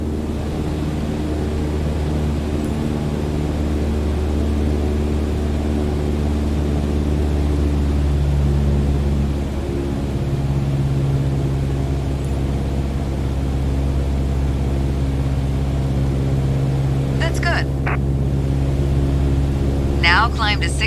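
A steady propeller engine drone from a Cessna 152 in Microsoft Flight Simulator 2020, an even hum running throughout alone, with a couple of faint clicks near the end.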